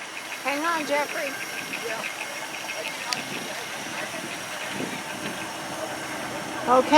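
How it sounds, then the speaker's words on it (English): An old steam engine runs at the Northeast Missouri Old Threshers show in Shelbina, a steady hissing, chugging mechanical drone with a brief whistle-like tone near the start and outdoor fairground background throughout. "so we have a really old steam engine here"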